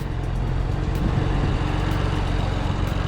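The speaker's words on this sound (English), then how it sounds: "Now there's only wastegate rattle." A BMW E92 335i with the twin-turbo N54 engine idles with wastegate rattle, a steady low engine drone carrying a faint, continuous fine metallic rattle, close up and uninterrupted.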